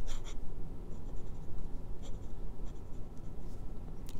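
Jinhao X850 fountain pen with a medium number 6 steel nib writing on Clairefontaine 90 gsm paper, a steady close scratchy scribble with brief sharper strokes throughout, no voices.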